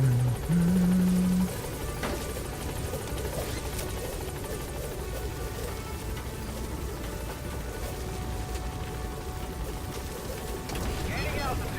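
In Metal Gear Solid V, a helicopter arrives at a landing zone as a continuous rotor thrum and engine whine, steady and fairly loud, with a short tone at the start.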